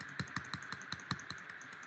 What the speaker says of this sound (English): Whatever I am saying, I'm typing, that's all.